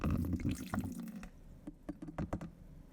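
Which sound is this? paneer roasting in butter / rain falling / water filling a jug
water filling a jug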